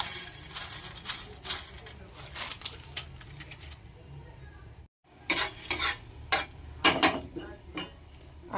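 Coriander seeds dry roasting in a hot dry pan for a vegetable chop recipe, stirred with a utensil that makes repeated scraping, rattling taps with a brief pause midway; a faint background hum runs underneath and no one speaks.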